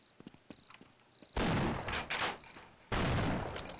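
Two heavy sniper shots in Half-Life, each a loud sudden blast with a ringing decay, separated by about a second and a half, following a few quieter clicks and small in-game sounds.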